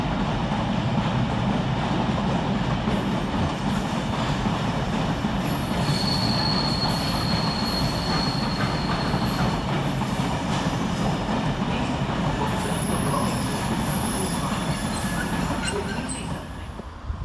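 A heavy freight cement train, locomotive 66790, rolls through Leicester railway station close by, wheels squealing loudly and steadily over the rails with a continuous rumble throughout.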